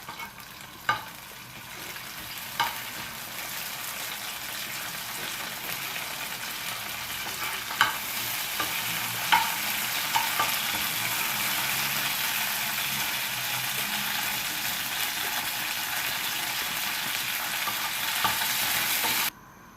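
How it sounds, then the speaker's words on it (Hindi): Curry leaves crackle and sizzle in hot oil for a baghar tempering for street-style chana pulao, a steady close frying hiss with a few sharp pops and stirring clicks throughout. "ये हमारा बघार तैयार हो गया है और इसे हम अब गैस के ऊपर डाल देंगे।"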